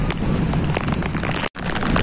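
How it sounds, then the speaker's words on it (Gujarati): Cyclone Biparjoy lashes the Mangrol harbour coast with a strong storm and big waves, giving a loud, dense, unbroken roar of wind and water that cuts out for an instant near the end before resuming. "આ વાવાઝોડું છે ને એટલું સ્ટ્રોંગ છે ને કે મોજાઓ એટલા મોટા આવી રહ્યા છે."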